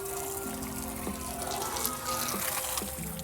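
Water is poured into a container for a leaf-floating Marangoni experiment, a steady trickling pour with slight gurgling that runs through the whole stretch at moderate, close volume, with faint tonal hum behind it.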